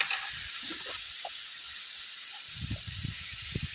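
Spices dropped into a hot pan of oil with ginger-chili-garlic paste, green chilies and tomato for adad dal, giving a steady loud hiss and sizzle throughout, with a few soft clinks and stirring bumps near the end.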